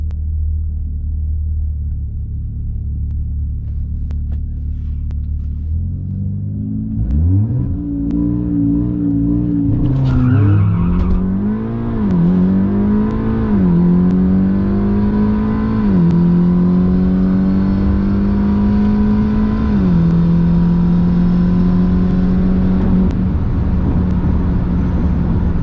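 A Stage 2 Audi S3 on a drag strip, idling with a low rumble before launching hard, the engine revving up through several gear shifts in a loud, sustained acceleration run.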